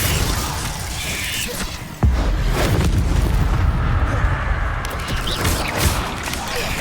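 Confringo blasting spell explosion in Hogwarts Legacy, a sudden loud burst at about two seconds that carries into a sustained roaring, crackling rumble amid heavy combat noise.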